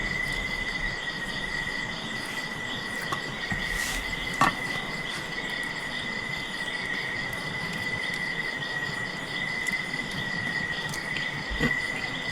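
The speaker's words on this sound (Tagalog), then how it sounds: "Ang mostly maririnig mo mga ang kuliglig, kung maririnig ka, tahimik tayo." Crickets chirp in a steady, high continuous trill at a quiet campsite, with occasional faint clicks and knocks nearby and no talking.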